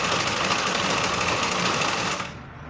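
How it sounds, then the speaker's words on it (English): A sewing machine stitches a dart on a bustier gown in a steady, rapid, close mechanical whir that runs evenly and stops abruptly near the end, with no voices. "So I will sew the second dart also like this."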